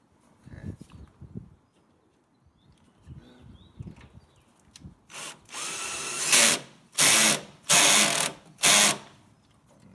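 A power drill driving a screw into a Jeep TJ tailgate: quiet handling and fiddling noises, then four loud, sharp whining bursts in quick succession, close by.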